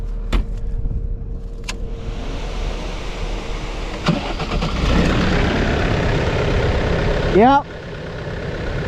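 A skid loader, broken down in a field and leaking oil, cranks and settles into a steady running rumble close by, with a brief voice and a few knocks over the engine.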